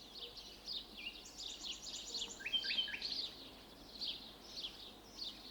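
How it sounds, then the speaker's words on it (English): Several small birds chirp and tweet in quick, high bursts, fairly faint and slightly distant, with soft overlapping calls over quiet background. "Suzanne, talk to the birds"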